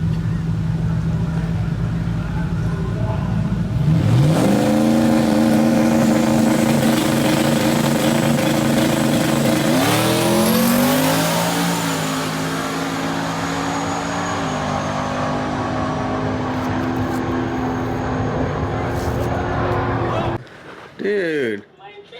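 A turbocharged Ford Mustang GT makes a drag racing qualifying pass: the engine idles, then revs hard and climbs through rising gear pulls, loud and close, before cutting off abruptly near the end.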